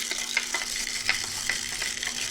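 The wet handle of a spoon stirs coffee beans with a close, continuous gritty rustle and scattered light ticks as the beans shift and knock together.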